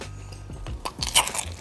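A bite into a lobster roll on butter lettuce gives a few close, crisp crunches followed by soft chewing, heard up close with no talk.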